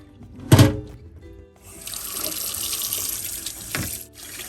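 Food is rinsed for making Thai crispy pork under running tap water, a close steady splash from the faucet into the sink, punctuated by a couple of thunks, alone without talk.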